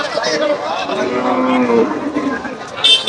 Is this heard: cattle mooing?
yes